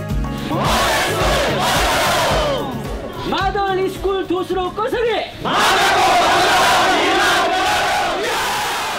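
Church of God volunteers in Dhaitar village, Nepal, raise a loud group cheer, a burst of many shouting voices, followed by a short pause and then another swelling collective shout, close and energetic.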